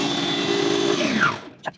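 An electric grinder whirs steadily as it grinds bread slices for green nuggets, a loud sustained motor hum that winds down and stops, followed by a couple of faint knocks.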